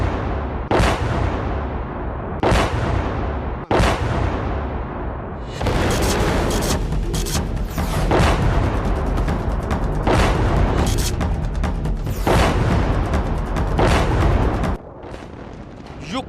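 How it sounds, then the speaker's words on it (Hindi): Explosions and artillery fire amid Ukrainian cities: a few sharp booms at first, then a dense, continuous roar of heavy blasts and rumbling bursts that stays loud before dropping off near the end. "धमाकों के बीच यूक्रेन के कई शहर।"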